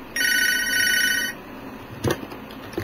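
A telephone rings once with a bright, electronic trill lasting just over a second during a call-in broadcast, followed by quieter line noise and a brief clunk.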